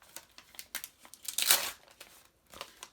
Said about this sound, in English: so of course the letter ripped